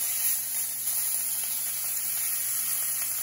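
Beef short ribs searing in a pot give off a steady, even sizzle and hiss, close and continuous throughout with no talking.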